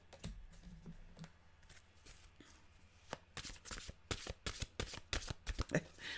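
Mantra cards being shuffled by hand, a run of crisp riffling bursts that start sparse and grow quicker and denser, close and fairly quiet in a calm room.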